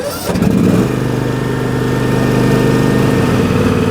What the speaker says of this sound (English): turn the key until the mower starts